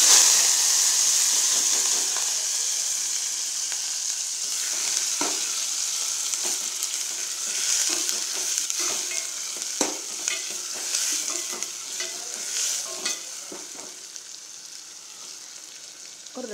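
Tomato, onion and curry leaves fry in hot oil with mustard seeds, a steady close sizzle and hiss broken by repeated scraping stirs across the pan for several seconds, with no voices.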